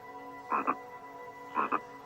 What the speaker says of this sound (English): a curious frog saw this beautiful creature. Overawed by his glowing skin, he croaked loud praises